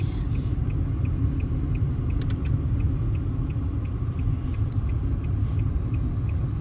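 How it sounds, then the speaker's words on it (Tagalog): A truck passing on a road, heard as a low steady rumble of traffic at moderate distance, continuous with no talking. "May truck, tama ba ako?"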